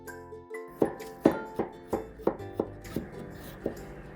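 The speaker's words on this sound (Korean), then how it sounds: "생강 조금 다져 줄게요." A knife mincing a small piece of ginger on a cutting board, a quiet run of about ten sharp, evenly spaced chops after a brief clink, with no voices.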